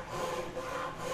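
Fine-toothed dovetail hand saw cuts through wood for a sailboat rudder and daggerboard, giving a quiet, steady rasping stroke close up with no talk.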